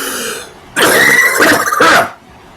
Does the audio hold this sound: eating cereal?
no